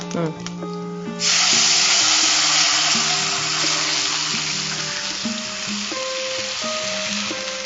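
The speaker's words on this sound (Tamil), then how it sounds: "இந்த புளி தண்ணீர்ல விடுறேம்மா" A loud, sudden sizzle bursts out as tamarind water is poured into a hot pan for a lentil-ball curry, then settles into a steady frying hiss with faint background music.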